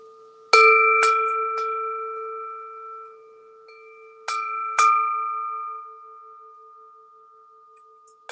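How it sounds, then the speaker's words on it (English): A small bell is rung to open a mindful meal. It gives three quick clear strikes, pauses, then two more, and each tone rings out in a long fading hum in a quiet setting. "you can ring a bell to start, before you start eating"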